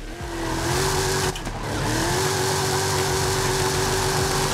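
A Hennessey Camaro Exorcist with long gearing pulls away, its loud engine droning steadily with rising pitch after a brief dip, close and alone with no voices.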